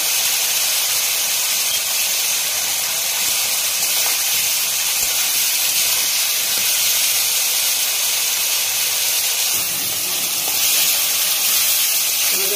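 Chili paste hits hot oil in a pan with a continuous loud, close sizzle and broad hiss that holds steady throughout, flaring slightly near the end.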